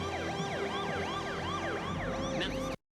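An ambulance siren wails in a steady, repeating up-and-down cycle, loud and close, running continuously for a few seconds before cutting off abruptly, with a faint motor rumble beneath.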